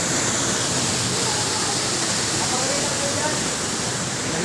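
Mayang Falls in Cavite pours in a loud, steady broadband roar of falling water, continuous and close with no breaks.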